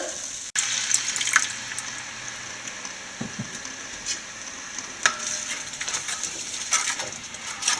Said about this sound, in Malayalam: ബാക്കി ഇരിക്കുന്ന അരപ്പിൻ്റെ അകത്ത് കുറച്ച് വെള്ളം കൂടെ ചേർത്ത്